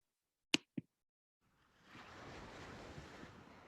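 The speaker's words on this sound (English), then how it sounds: "Oh, that sounds like water." Two sharp clicks, then a soft wash of water, like gentle waves or flowing water, that fades in and continues steadily and quietly, played during an online Wu Tao dance class.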